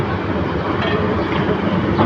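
Kishorganj Express, an Indonesian-built passenger train, pulling into platform one at Kishorganj railway station, a steady close rumble of rolling wheels and carriages with no voices.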